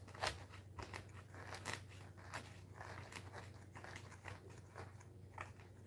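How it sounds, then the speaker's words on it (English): A felting needle stabs repeatedly into wool, producing soft, quick crunchy pokes in an uneven rhythm, close and quiet over a low steady hum. "Makes a nice little crunchy sound, too."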